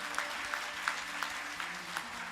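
Audience applause at a Hindu devotional gathering led by a spiritual guru, a steady, fairly faint wash of many hands clapping together with small swells, heard alone without talk.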